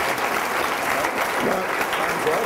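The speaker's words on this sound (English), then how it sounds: "Let's give each of our debaters a round of applause." An audience at a debate on the existence of God claps steadily for the debaters, a dense, even round of applause heard throughout.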